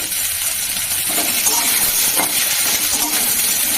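A lidded pot of food simmering on a stove, likely a pressure cooker, gives off a steady, loud steaming hiss with a faint bubbling underneath, continuous and close throughout.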